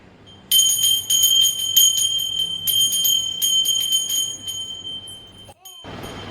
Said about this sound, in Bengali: নাচ করে করে নাচো আর ঘন্টা বাজাও